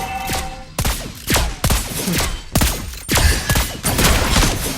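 Gunfire from Lesley's new gun in the mobile game Mobile Legends: Bang Bang, ranked mode, with loud, close bursts of rapid shots separated by short pauses and heavy thumping impacts, with no talking.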